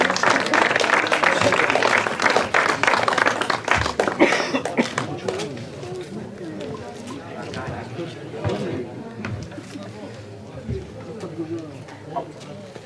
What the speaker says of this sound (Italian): Un applauso alle RS